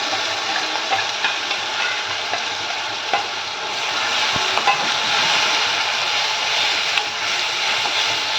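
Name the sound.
tomato paste with curry leaves frying in oil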